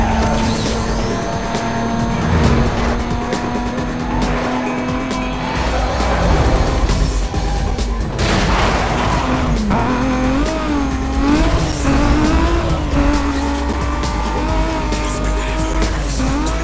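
A Toyota Supra race car in Need for Speed Most Wanted screams through a race, its engine revving hard and shifting, with tires squealing and skidding as it corners, loud and continuous throughout.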